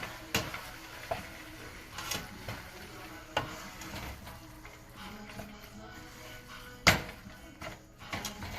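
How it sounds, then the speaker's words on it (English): A spoon stirs a lentil lasagna mixture seasoned with onion powder in a pan, giving soft scraping strokes with a few sharper clinks against the pan, over a low sizzle, fairly quiet and close. "And then of course stir to mix it up."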